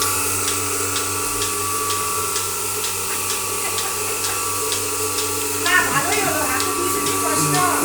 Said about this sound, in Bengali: এটি হলো তুরস্কের দুধ দোহানো মেশিন।